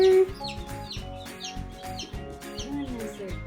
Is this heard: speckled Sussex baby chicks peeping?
yes